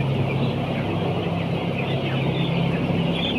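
Ten-day-old broiler chickens in a poultry house fill the space with a dense, continuous chorus of peeping and clucking, steady and close, with a low fan hum underneath.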